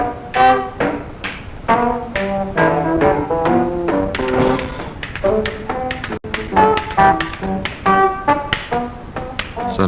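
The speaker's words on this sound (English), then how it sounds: "So now we know what a zob stick sounds like." A zob stick, a homemade lagerphone-style percussion pole, is played in quick rattling jingle strikes, a steady rhythmic run of bright clattering taps with a metallic ring, close and fairly loud.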